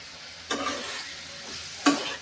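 Chicken fries in hot oil with a soft steady sizzle, broken by two louder stirring scrapes that make brief bursts of crackle up close, with no speech.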